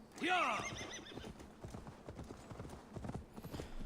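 Horse hooves clip-clop steadily in Assassin's Creed Valhalla, opening with a short whinny, then a quick rhythmic gait sounding close and moderately loud.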